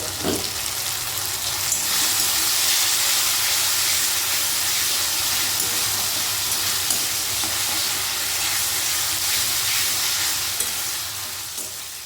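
Spice paste and soaked aatop rice fry together in a pan, a loud continuous sizzle and hiss with stirring scrapes, dense and close throughout with no voices.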